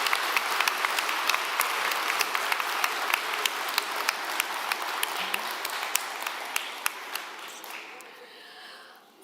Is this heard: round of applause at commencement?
yes